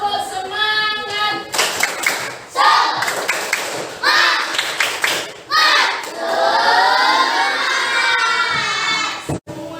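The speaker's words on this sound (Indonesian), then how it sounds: "Tepuk semangat." Schoolchildren in a classroom perform a rhythmic spirit clap, bursts of clapping and thumps mixed with excited shouting and chanting voices, loud and close, ending in a sustained cheer.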